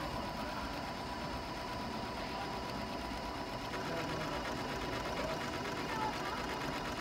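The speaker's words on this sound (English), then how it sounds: "Smooth running machine, very precise. Runs a basting stitch or a straight stitch" A Janome Continental M7 sewing machine stitches a buttonhole, a quiet, steady mechanical whir with fine rapid ticking that runs continuously under faint talk.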